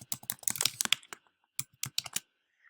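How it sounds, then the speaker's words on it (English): Text is typed on a computer keyboard in quick clusters of close, crisp key clicks, then a brief pause, then another short run of keystrokes. "I'm going to delete that, and we're going to type it again."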